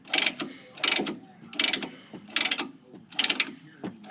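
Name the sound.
caliper piston tool pushing brake piston back in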